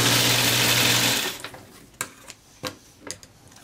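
A sewing machine stitches a shirt collar, running in one steady loud burst that then stops, followed by a few sharp separate clicks and taps of handling.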